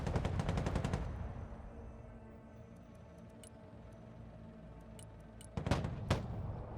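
Artillery and automatic gunfire in the war video game Broken Arrow: a loud burst of rapid shots opens, then a low rumbling battle drone continues, then another sharp volley near the end.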